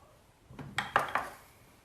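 Vinaigrette salad dressing is whisked in a bowl, making a few quick light clinking and scraping strokes in a short burst of about four beats, fairly faint and close, with no talking.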